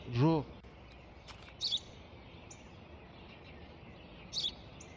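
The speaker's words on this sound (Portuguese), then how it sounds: "O que é aquilo? Um pássaro, pai, um pássaro." A bird calls in short, faint high chirps, two of them spaced a few seconds apart. They sit over a steady background hiss, after a brief louder sound at the start.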